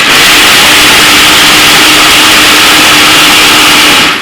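A loud, steady motorized whir of a blender running at high speed, blending raw vegan chocolate mulberry dessert ingredients, fills the whole stretch without a break.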